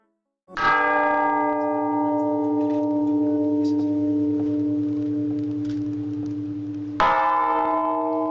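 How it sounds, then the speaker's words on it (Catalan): A deep church bell tolls, one long ringing strike that hums and fades slowly, then a second strike sounds near the end. "Per qui toquen les campanes amb un son tan llarg i trist?"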